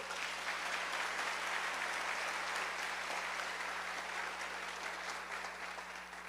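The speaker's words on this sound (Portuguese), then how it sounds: "Pode aplaudir." Audience applause at a church service, a steady wash of many hands clapping at moderate distance, sustained and slowly tapering near the end, with a faint low hum beneath.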